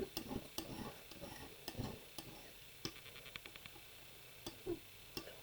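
Paint is being mixed with quiet, close scraping and stirring, with scattered small ticks and taps. The sound is faint, with no talking.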